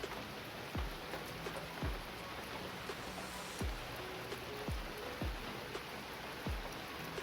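Steady rain falling, a dense wash of patter with occasional louder drops or drips striking nearby, continuous and moderately quiet with no voices.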